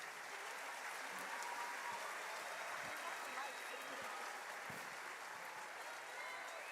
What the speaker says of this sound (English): how about a round of applause for all of our students tonight?